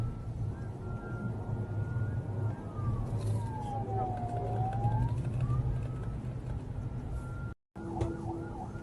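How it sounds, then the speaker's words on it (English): A distant siren wails with a slow rising and falling tone over steady traffic rumble and low background noise. "judging by the siren that we're hearing in the background"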